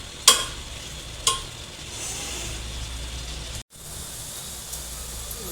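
Onions are stirred and fried in a pan for chicken curry, with a steady sizzle running throughout and two sharp scraping clatters near the start from a spatula against the pan.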